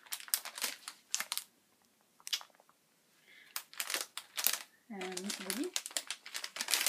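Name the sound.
opening a crinkly package of shortbread cookie bites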